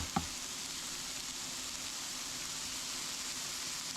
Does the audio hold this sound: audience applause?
no